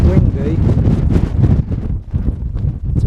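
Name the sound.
strong wind buffeting on a mountain ridge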